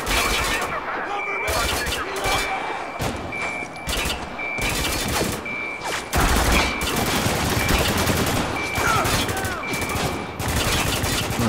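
Shotgun blasts and heavy gunfire in the video game Spec Ops: The Line, loud and dense with repeated sharp bursts, shattering debris and game effects, while someone talks over the action.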